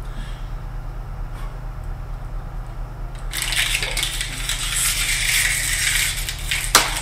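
Plastic water bottles being crushed as someone chugs them fast, a loud crinkling, gushing rush that begins abruptly partway through and runs on steadily, ending with a sharp knock, over a low steady hum.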